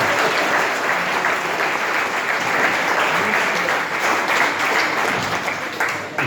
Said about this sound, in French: J'attends une applaudissement.